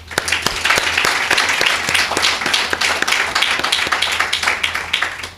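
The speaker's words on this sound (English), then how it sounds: "Can you join me in a round of applause for all of our speakers," An audience at a legislative summit applauds its speakers and panelists, a dense, loud burst of many hands clapping close by, steady for about five seconds before easing off at the end.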